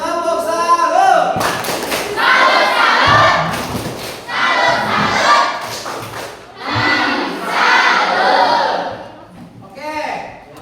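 A school class claps a rhythmic group clap routine for a classmate group, with bursts of patterned clapping and shouted chants alternating with loud voices, close and lively.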